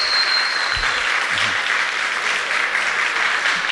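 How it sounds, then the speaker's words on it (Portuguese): Studio audience on an Angolan TV variety show applauds the technical crew, a thick steady burst of clapping throughout, close and loud, with a faint high whine in the background. "Palmas para eles, por favor"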